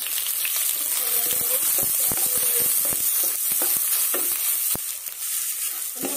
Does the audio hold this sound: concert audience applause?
no